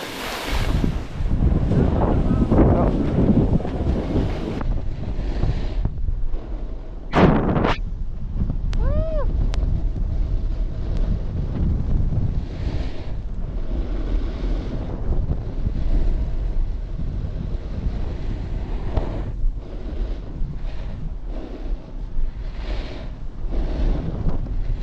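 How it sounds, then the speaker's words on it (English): Strong wind gusting across a ski slope at Caberfae, buffeting the microphone with loud, continuous rumbling roar throughout, with brief whooshing swells and a short whistling tone partway through. "It's windy."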